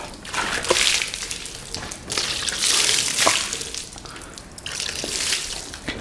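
Water runs and splashes over the painted sill of a Lotus Elise during a rinse, a steady broadband spray that swells and eases in bursts with a few drip-like taps, fairly close and with no talking.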